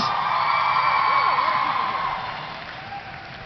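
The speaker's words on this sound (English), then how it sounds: "Let's give a massive round of applause for Mr." A large audience at a fan convention panel in London claps and whoops in a loud, dense wash of cheering that gradually tapers off toward the end.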